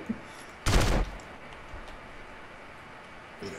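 A burst of rapid gunfire erupts briefly in a GTA San Andreas multiplayer match, a loud dense crackle lasting under half a second amid quiet game background, with a fainter pop near the end.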